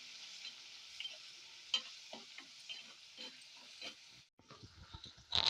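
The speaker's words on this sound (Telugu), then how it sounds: "ఇప్పుడు ఈ ఉల్లిపాయలు గోల్డెన్ బ్రౌన్ కలర్ వచ్చే వరకు వేపుకుందాము." Chopped onions fry in a pan for a Telugu-style ridge gourd curry cooked with milk, a quiet sizzling hiss with intermittent scraping and stirring clatters of a spoon against the pan, close and fairly soft.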